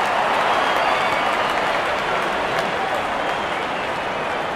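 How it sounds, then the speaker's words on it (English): Crowd applauding in the cricket video game Real Cricket 24 during an India vs Pakistan match after a batsman reaches fifty, a dense, steady wash of clapping and cheering throughout, loud and continuous. "Wonderful 50, and the crowd applauds."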